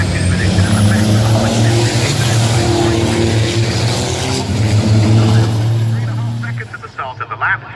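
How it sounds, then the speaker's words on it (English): Racing trucks roar past at Brands Hatch during the 2018 British Truck Racing Championship final, a loud sustained engine drone that fades near the end, with a commentator talking over it. "Bits of bodywork falling off the back of some of the trucks as they head up towards the braking area."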